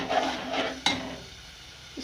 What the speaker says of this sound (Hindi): इसको अच्छी तरह से भूनना है